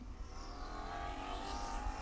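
F4 U.S. Championship race cars accelerate away on a racetrack, giving a continuous loud engine roar from a pack of cars at moderate distance, rising in pitch, with no talking.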